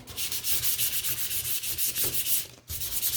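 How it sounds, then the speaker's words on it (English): A wooden laundry sign gets its corners sanded hard to distress the finish: close, steady scrubbing strokes run continuously in a quick rhythm, with one brief pause just before the end. "I'm going to distress mine, so I'm just going to really wear away those corners"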